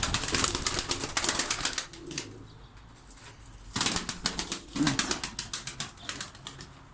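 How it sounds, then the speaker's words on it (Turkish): Performance pigeons outdoors flap their wings in two bursts of rapid, close clattering wingbeats, with a quieter pause between and faint bird sounds around them. "Bunlar da ilk defa dışarı çıktılar."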